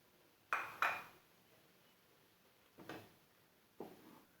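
Rava upma being stirred in a pan gives a few faint metallic clinks of spoon against metal, two close together and then two more spaced apart, over a quiet background.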